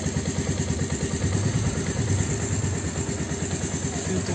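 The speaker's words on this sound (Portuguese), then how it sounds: "Agora vamos ligar, né? Ver se funciona. Aí. Motorzinho sereninho." A Suzuki Yes 125 motorcycle engine idles after starting, a close, even, rapid putter with a steady rhythmic chug and no talk over it.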